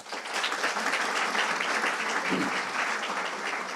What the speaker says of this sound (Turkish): bir alkış istiyoruz tabii